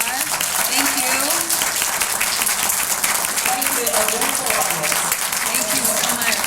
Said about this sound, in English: I hope you will join me in a round of applause that Carol will surely hear from afar